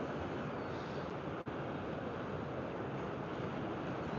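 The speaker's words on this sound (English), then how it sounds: "Man, look at them rollers. Them are some big old waves." Big ocean rollers heard as a steady, dense roar of surf and wind noise, continuous and loud throughout, with a brief dip partway through.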